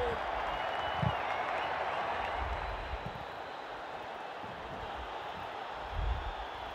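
A stadium crowd roars steadily through an India vs Pakistan match in the World Cricket Championship 3 video game, a dense, continuous wash of cheering with a few louder swells.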